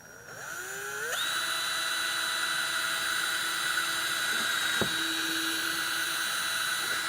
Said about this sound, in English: we're going to go ahead and drill just 2 pilot holes here